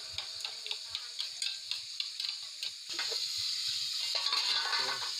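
Yogurt (curd) being whisked in a bowl for aloo kurma, a steady quick ticking of strokes close by, growing denser and louder in the second half, with onions frying softly underneath.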